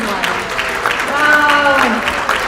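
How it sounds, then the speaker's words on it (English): A live event audience gives a short burst of applause with raised voices cheering over the clapping. "Let's give a big applause to the people who is connected in our YouTube stream live"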